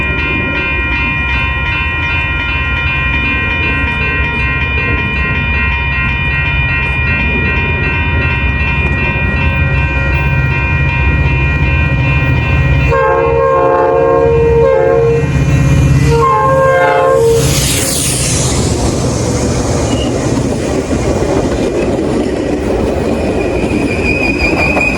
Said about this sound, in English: Train approaching. Please stand back.